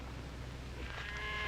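Cattle low softly in a Western film, a faint drawn-out moo rising near the end over a quiet background.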